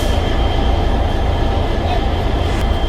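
A train at Guntakal railway junction gives a loud, steady low rumble that carries unbroken through the whole moment.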